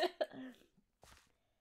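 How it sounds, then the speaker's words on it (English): Someone gaming online chokes and coughs: two sharp close coughs, a strained gasping breath, then a further throaty cough burst. "You are you choking, coughing, or laughing? Choking."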